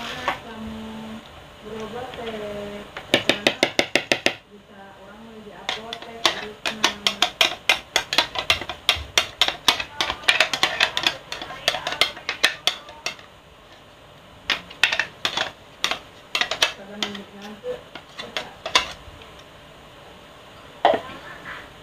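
Banana and salted duck egg bait being stirred in a bowl, with rapid clattering scrapes and taps of a utensil against the bowl in repeated bursts, close and fairly loud, with a voice talking in between.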